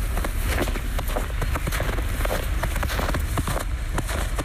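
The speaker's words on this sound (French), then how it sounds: "C'est le bruit de mes pas dans la poudreuse." Regular crunching footsteps through powder snow on a Paris street, an even walking rhythm of muffled crunches close by.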